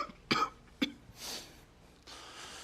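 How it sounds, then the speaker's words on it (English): Indoors in a studio, a man gives two sharp, close coughs in quick succession, followed by softer breathy throat noises. "Man, I'm sorry for my coughing"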